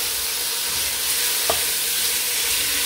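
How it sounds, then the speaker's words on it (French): Beef strips fry in a hot pan for a rice vermicelli dish, giving a dense, loud, continuous sizzle with one brief scrape partway through and no talking. "je vais ajouter ma viande. Que je vais faire cuire jusqu'à ce qu'elle change de couleur"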